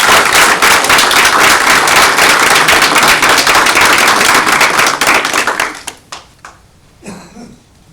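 Audience applause at a school board meeting honoring a long-serving principal, loud dense clapping for about six seconds before tapering off into a few scattered claps.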